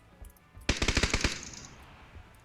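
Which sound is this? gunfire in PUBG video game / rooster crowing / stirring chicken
gunfire in PUBG video game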